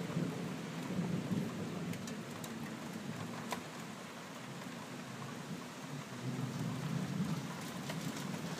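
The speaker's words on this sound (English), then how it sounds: "Lightning and thunder and a little bit of hail mixed in there." A thunderstorm in Jackson County, Kentucky, with steady rain and a little hail rattling on a garage roof, low thunder rumbling through most of it and sharp hail ticks scattered on top, with no voices.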